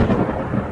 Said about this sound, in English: Hear the thunder clap